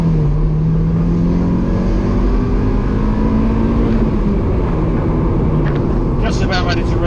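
An MG TF 160 sports car accelerating hard in second gear on an open straight road, recorded from inside: a loud, steady engine drone with rising pitch, continuous throughout and louder than the road and wind noise around it.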